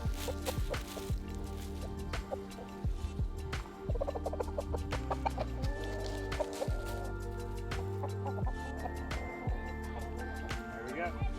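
Bielefelder chickens on an Idaho pasture make repeated short clucks and squawks close by, mixed with handling noises and a person talking throughout.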